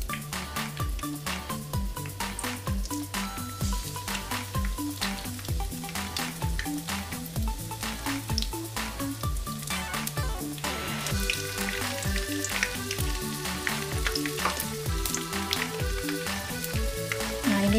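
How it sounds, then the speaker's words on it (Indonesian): Tapioca-stuffed tofu (tahu aci) frying in hot oil gives a steady, continuous sizzle that lasts the whole stretch, partly blended with background music. "Saya goreng dulu."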